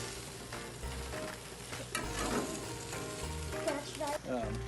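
Thick burger patties sizzle on an outdoor grill, a steady crackling hiss with small pops, fairly faint and continuous, with brief clanks of a utensil and no one speaking.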